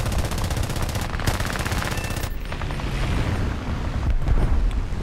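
Rapid machine gun fire from aircraft in the War Thunder air arcade battle rattles continuously and loudly, with dense bursts overlapping booming explosions and engine roar throughout.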